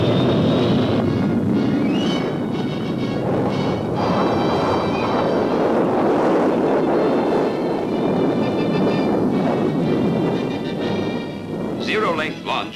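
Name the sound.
1958 F-100 jet launching from short runway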